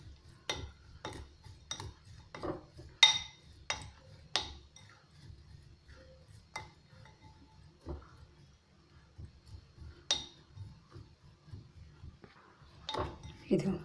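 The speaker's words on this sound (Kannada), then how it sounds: "ರುಚಿಗೆ ತಕ್ಕಷ್ಟು ಉಪ್ಪು, ಒಂದು ಸ್ಪೂನ್ ಆಯಿಲ್ ಹಾಕಿ ಅದನ್ನು ಕ್ಲೀನಾಗಿ ಮಿಕ್ಸ್ ಮಾಡ್ಕೋಬೇಕೆಲ್ಲ" A metal spoon clinks and scrapes against a bowl while curd curry ingredients with salt and a spoon of oil are stirred together, giving sharp irregular taps over about fourteen seconds with quieter gaps and soft background voices.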